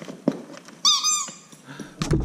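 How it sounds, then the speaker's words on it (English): A dog's squeaky toy gives one clear, drawn-out squeak of about half a second close by, set among a husky's rustling and other brief household noises. "Oh, we got a squeaky toy."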